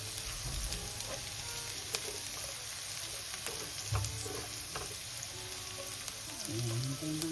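Chopped onions sizzle and fry steadily in a hot pan, set aside from chicken, a continuous crackling hiss with occasional stirring scrapes and clinks, close and fairly loud throughout, with no talking.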